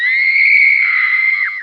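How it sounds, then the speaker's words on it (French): A single shrill, piercing scream rings out in the night, held steady and loud for over a second before breaking off sharply. "Un hurlement strident déchira le silence inhabituel de la nuit."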